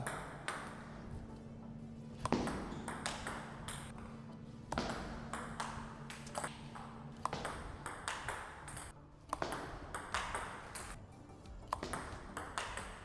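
Sharp table tennis ball hits off a Fast Arc G-1 rubber, a steady rally of crisp pings at a regular pace, close and clear, with a faint low hum underneath.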